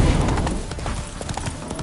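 Horse hooves clip-clop in The Witcher III video game, a quick steady rhythm of hoof beats over a dense background of game ambience.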